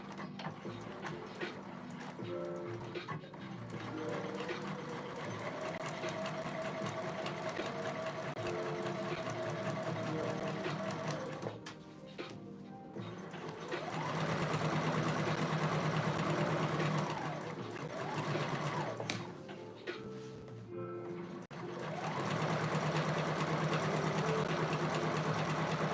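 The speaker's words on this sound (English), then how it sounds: "I'm gonna use like a loose basting stitch." A sewing machine runs a loose basting stitch in several steady bursts separated by short pauses, its motor whirring up and slowing down close by with no talk over it.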